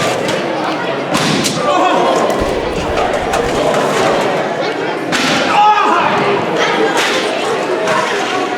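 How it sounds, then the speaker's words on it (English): Loud impacts of a garbage can slammed onto wrestler Tyler Vincent at a live indie wrestling show, several heavy thuds and bangs ringing over a constant roar of crowd noise. "That was a violent use of that garbage can on Tyler Vincent."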